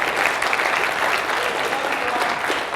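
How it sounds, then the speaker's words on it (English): Audience applause fills a live event hall, a steady wash of clapping hands that stays loud and even from start to finish with no voices standing out. "So let's give it up for Rob"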